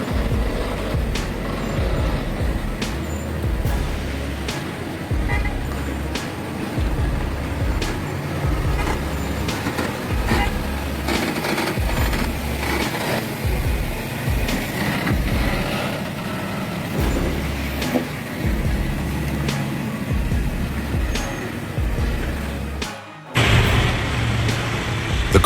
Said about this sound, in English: The car roared, stubbornly conquering the winding, dangerous slope.